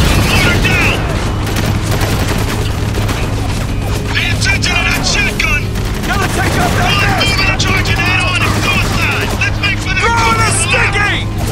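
Shotgun blasts and heavy combat fire in the video game Spec Ops The Line, dense and loud throughout, with shouting voices and a constant low drone mixed in.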